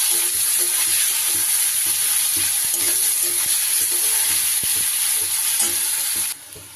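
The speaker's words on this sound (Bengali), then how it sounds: "এবার দিয়ে দেবো আমি কেটে রাখা পেঁয়াজ। পেঁয়াজটা একটু আমি লাল করে ভেজে নেব।" Chopped onion frying in hot oil in a pan, a loud, steady sizzle with occasional stirring scrapes, cut off abruptly near the end, no talking.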